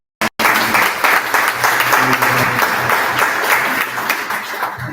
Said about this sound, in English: let's give all our elected officials a round of applause